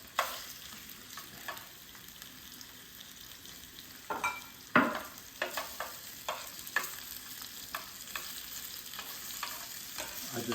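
Extra virgin olive oil with black peppercorns frying in a pan, a steady close sizzle with scattered pops and crackles and a louder burst midway, no talking.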